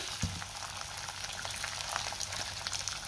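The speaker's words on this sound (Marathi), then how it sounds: "तेल गरम झाले, त्यामध्ये आपण कांदा घालूया" Onion sizzles steadily in hot oil, a dense crackling hiss with scattered pops, close and continuous throughout.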